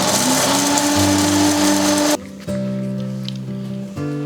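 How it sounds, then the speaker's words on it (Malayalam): A kitchen mixer grinder blends whole spices including garam masala for a Kerala beef curry, a loud steady motor whine that cuts off abruptly, then briefly restarts in shorter pulses. "ഇത് മിക്സിയിലിട്ട് നമുക്കൊന്ന് അടിച്ചെടുക്കാം."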